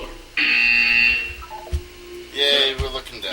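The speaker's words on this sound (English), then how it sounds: "You will hear a buzzer." A harsh electronic buzzer sounds in the Portal 2 video game, two loud sustained blasts separated by a pause, with speech and other game sounds around them.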